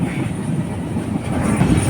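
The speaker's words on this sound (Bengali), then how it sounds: "আমাদের ট্রেনটি এই মুহূর্তে টাঙ্গাইল রেলওয়ে স্টেশনে প্রবেশ করেছে" Dhumketu-class express train, the Drutojan Express, rolling into Tangail railway station, a steady rumbling roar with wheels clattering over the rails, heard up close from on board without any talk.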